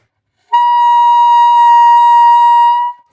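A saxophone sustains a single pure altissimo G, a bright, steady, loud tone held for about two and a half seconds alone before cutting off.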